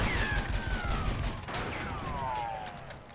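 Faint, distant gunfire crackles in the First World War shooter Battlefield 1, with sharp pops scattered through the battle ambience and falling whistling tones passing overhead.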